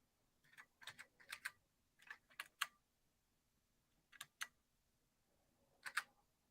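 Keys clatter on an Apple IIc computer keyboard in short bursts of quick taps separated by pauses, close and fairly quiet in a still room.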